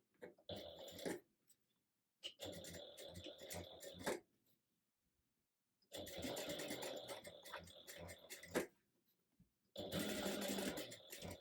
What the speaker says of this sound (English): And then I'm going to top stitch this here at 1/8 of an inch seam allowance.